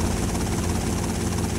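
A steady, loud whirring rotor hum comes from a helicopter in the video game GTA Vice City, a constant low-pitched engine drone with no voices.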